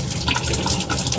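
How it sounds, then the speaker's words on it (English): Water runs loudly from a tap as fresh asparagus is rinsed, a dense, continuous gushing and splashing close by with no talk. "Then you wash it fresh in the water,"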